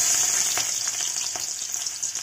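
Garlic sizzles steadily in hot oil in a tadka with cumin and dried red chilies for palak dal, a loud close frying hiss with faint stirring scrapes and no talking.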